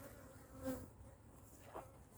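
Honeybees buzz around hives on a hot, humid July day, a faint, steady insect drone with one nearer bee swelling past, then another brief pass later.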